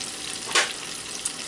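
Coconut shrimp bubbling in a deep fryer, a dense steady hiss of hot oil close by with a brief louder crackling burst partway through.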